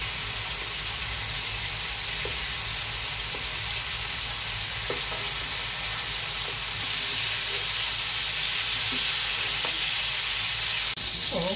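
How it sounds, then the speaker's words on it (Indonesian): Beef for kebab fries in a pan, giving a steady, loud sizzle and hiss of hot oil with occasional soft pops and stirring clicks throughout. "Kita goreng daging sapinya."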